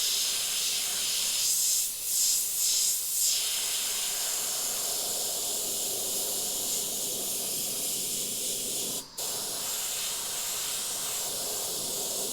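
An airbrush sprays transparent black paint, cleaning up overspray on flame artwork, giving a steady close airy hiss that runs the whole time with a few brief swells and one short break near the end.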